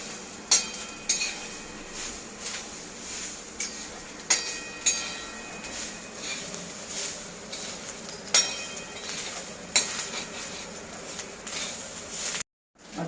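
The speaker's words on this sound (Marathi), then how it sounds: "आता हे सगळं कांदा खोबरं लसूण सगळं भाजून झालंय" Onion, coconut and garlic roasting in a pan give a steady low sizzle, broken every second or two by sharp spatula scrapes and knocks against the metal, close by and with no talk.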